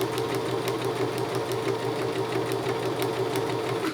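Steady, close whir of a sewing machine stitching a straight seam on a reversible dog bandana, running continuously without pause and without talk.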